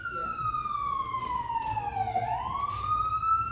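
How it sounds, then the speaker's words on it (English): A siren wails steadily on a New York City street, its pitch sliding down then rising again as it passes, over a constant rumble of city traffic. "We have to have a siren that goes by"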